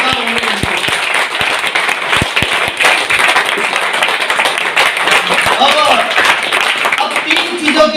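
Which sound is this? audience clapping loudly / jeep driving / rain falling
audience clapping loudly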